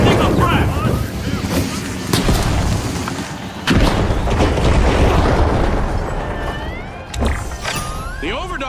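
A frag grenade blows up in The Finals: a heavy booming blast midway through, amid ongoing loud, rumbling combat noise with scattered impacts and a few shorter bangs.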